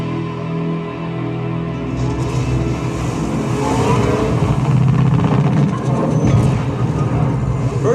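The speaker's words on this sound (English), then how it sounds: "We'll play Ready Player One, the race scene." Race scene car engines from Ready Player One play through PreSonus Eris E4.5 studio monitor speakers, a rising roar of revving motors and passing cars over a rumbling low end, growing louder toward the middle and holding steady.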